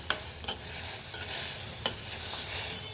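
Food cooking in a pan with salt, a snack being gently cooked without onion; steady soft sizzle broken by a few sharp scraping stir strokes, close and alone without talk.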